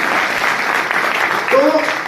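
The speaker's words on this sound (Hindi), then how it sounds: "एक बार अपने जोरदार ताली बजा दें।" Audience applause at a live talk, a dense burst of clapping heard close and loud throughout, with a voice rising over it near the end.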